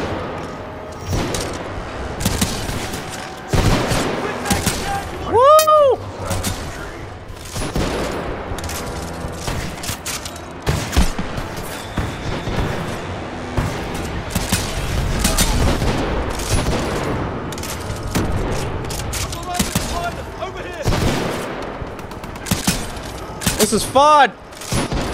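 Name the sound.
weapon gunfire in the video game Titanfall 2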